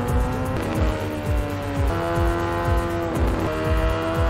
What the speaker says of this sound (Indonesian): Seorang biker dengan dandanan serba hitam memacu motornya dengan cepat.